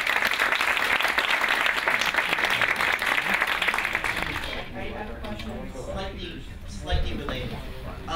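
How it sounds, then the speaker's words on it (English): Conference audience applauding after a legal talk, a steady burst of clapping that thins out toward the end, with voices murmuring beneath it. "Let's give Mr. Avi a round of applause."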